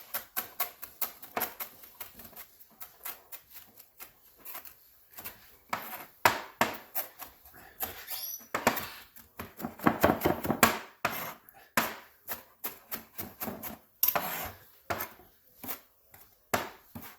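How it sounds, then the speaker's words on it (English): Fresh cilantro is chopped finely with a knife on a cutting board, giving rapid irregular bursts of crisp taps with brief pauses, close and clear with no talking. "Next ingredient I'm going to use is cilantro, and I'm going to cut this very fine"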